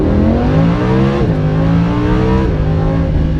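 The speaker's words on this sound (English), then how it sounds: "That's V10 soundtrack." Lamborghini Huracan V10 with four-wheel drive pulling hard in first gear on tight, twisty roads, a loud, close engine roar rising steadily in pitch, with two brief dips as the revs shift before it climbs again.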